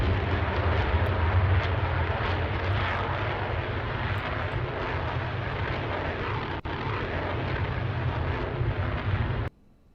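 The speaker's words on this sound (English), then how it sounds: "Afterburners lit there, that's the noise you can hear." A close, loud, steady roar from an F-22 jet's lit afterburners in a Roblox aerobatics display, a broad continuous rumble lasting about nine seconds before cutting off abruptly.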